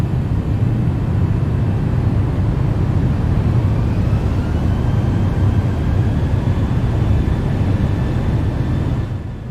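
Simulated airliner engines spooled into reverse thrust for a 1970s-style pushback in X-Plane 12, a steady, loud, continuous low roar with a faint high whine that holds throughout and cuts off abruptly at the very end.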